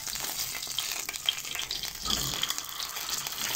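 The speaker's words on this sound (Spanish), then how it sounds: "Aquí ya estoy friendo un pedazo de chuleta." A piece of pork chop fries in a pan with a soft, constant sizzle and crackle, faint and close, with scattered small pops and no talking.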